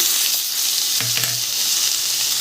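Potatoes and onions frying in oil in a pan, a loud continuous close sizzle with a short clunk of a utensil partway through, no talking.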